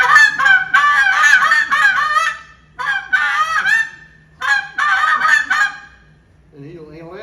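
A handheld tube goose call blown in imitation of Canada goose honks, three loud close bursts of rapid, choppy honking separated by short pauses, followed by a softer low call at the end.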